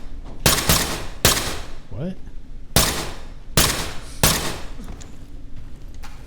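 About six sharp, loud gunshots in a video game crack out at irregular intervals, each with a short decaying tail, and a voice briefly speaks between them.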